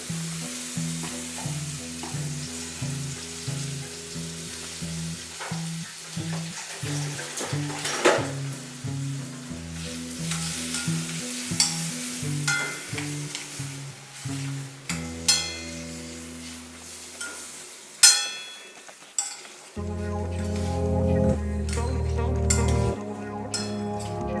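Chunks of meat sizzle and fry in a pot, with steady hissing, occasional stirring and utensil clinks over background music.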